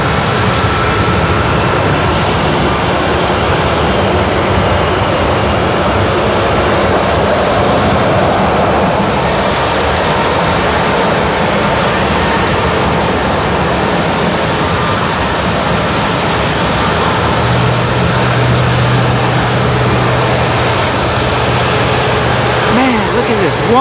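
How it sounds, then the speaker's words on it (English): Jet airliners landing at Seattle-Tacoma International Airport, several planes arriving in turn, heard as a steady, loud, continuous engine roar that never lets up, with faint talk mixed underneath. "1, 2, 3, 4 planes coming in."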